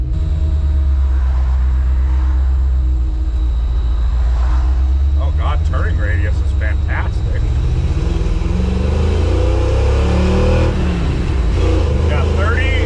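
A 1954 Ford F100 pickup engine running and pulling through first gear, a steady low rumble with rising revs heard from inside the cab while someone talks over it.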